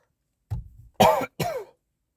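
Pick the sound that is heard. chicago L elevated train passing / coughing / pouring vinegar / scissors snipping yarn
coughing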